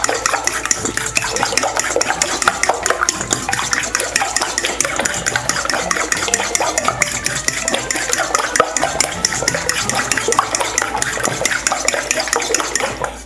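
Five eggs beaten in a bowl: a rapid, unbroken clatter of whisking that stays close and even in loudness from start to finish, with no voices.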